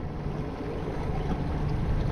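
An outboard boat motor idles in windy, choppy water, a steady low rumble mixed with wind buffeting and water noise, with no talking.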